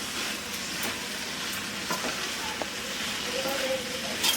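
Drumstick leaves stir-fried in a pan give a faint, steady sizzle with soft scraping stirs and occasional light clicks of a utensil, close by and continuous.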